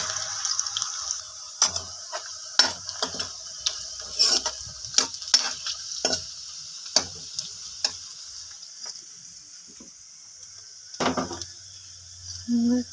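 Spices frying in a pan with garlic, onion and ginger, stirred with a spatula that clacks in sharp irregular knocks over a steady hiss, with a brief splash of water near the end.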